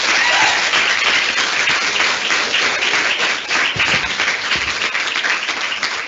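Sustained audience applause for lecturers at a student midwife debate, many hands clapping in a thick, loud, steady wash that fades only slightly toward the end.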